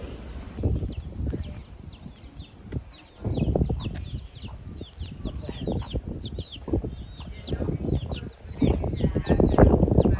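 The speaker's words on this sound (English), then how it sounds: "Here's another clip of the chickens." A family of chickens in Bermuda clucks softly and steadily in short repeated calls, close by, under background chatter and outdoor bustle with occasional wing flutters.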